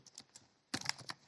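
Quick bursts of typing on a computer keyboard, a few soft keystrokes followed by a brisk cluster of sharper clicks, close and fairly quiet with no voices.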